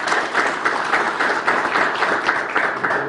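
An audience at a veterans' anniversary ceremony in Zadar claps loudly for a general, with dense, sustained applause that is close and even and has no break for its whole length.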